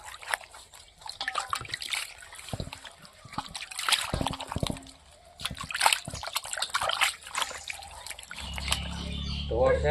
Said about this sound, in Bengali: জল দিয়ে ধুয়ে নিব